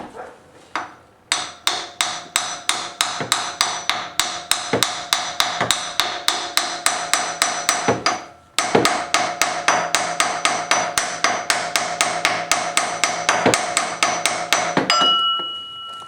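A hammer strikes repeatedly at the crankshaft seal of a 3.8-liter 2007–2011 Jeep Wrangler JK engine, a fast, even series of sharp metallic taps that pauses briefly once and then resumes, loud and close.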